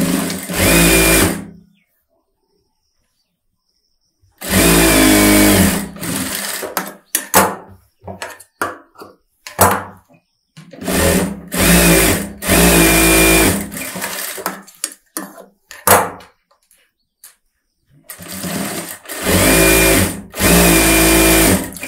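A tailoring sewing machine stitches a close-neck blouse in loud, close bursts of whirring, several runs of a few seconds each broken by pauses and short handling noises.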